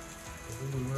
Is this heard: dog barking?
no